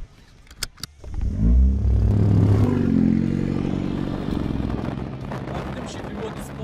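A tuned Stage 2 Plus Renault Megane 4 RS Trophy starts up with a few sharp clatters, then its engine roars loudly and settles into a steady, rumbling rev that fades slightly.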